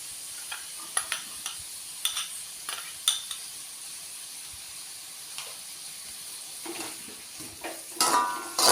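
Chopped onion, ginger and sliced garlic sauté in a pan with a constant soft sizzle. A spoon stirs and scrapes repeatedly against the metal, with a sharper clatter near the end.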